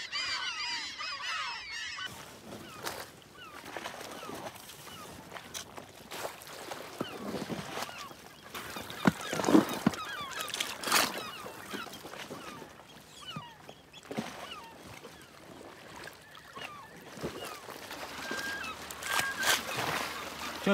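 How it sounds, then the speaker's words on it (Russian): Many geese on an island honk in a loud, overlapping chorus at middle distance, with scattered calls rising and falling over steady outdoor background noise. "Сколько гусей на острове."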